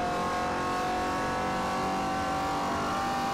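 Race car engine in Forza Motorsport 4 holds a steady, loud, high-pitched drone at sustained revs while circling a track, with no pauses.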